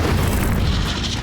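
A booming burst as the Incendio fire spell is cast in Hogwarts Legacy, a dense, loud whoosh of flame filling the moment without any voices.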